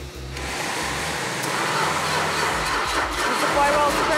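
An engine being cranked on a weak, dying battery, the flywheel turning over in a steady whirring drone with a low pulsing rumble, and a voice briefly audible over it.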